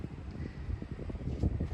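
Outdoor wind buffets the microphone in low, uneven gusts throughout, a constant rumbling roar with no speech.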